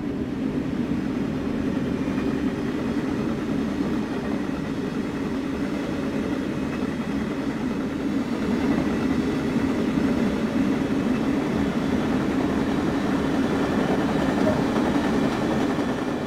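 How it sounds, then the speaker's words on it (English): Inside a Caltrain double-deck gallery car on a southbound run in Train Sim World 2, a steady low rumble and hum carries on evenly throughout, with no voices. "You are currently riding in a double-deck gallery car on a southbound service."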